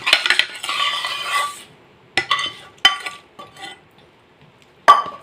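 A spoon stirring mango pickle with asafoetida in a bowl gives off clinks and scrapes against the dish, coming in short bursts with quiet gaps between them, close by and clear.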